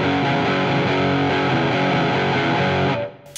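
Distorted electric guitar through a NUX Trident modeller's mid-gain amp preset, with moderate crunch, strummed chords ringing steadily and loud, then cut off near the end.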